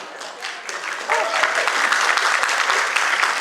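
An audience claps at a Hindi comedy or talk show, the applause starting sparse and rising into a fuller, steady burst of many hands after about a second.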